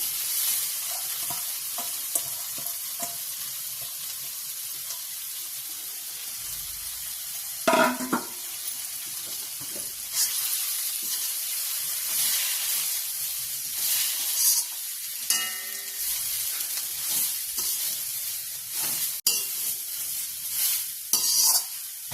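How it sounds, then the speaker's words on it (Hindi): Grated carrots roast in butter in a pan for gajar halwa, a constant bright sizzle broken by close scraping stirs and a few clanks of the spoon against the pan. "अब हमें गाजर को हल्का हल्का मुझे रोस्ट करना है।"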